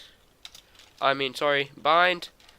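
Keystrokes on a computer keyboard while a console command is entered for the game Rust: scattered quick clicks near the mic, with someone talking over most of them.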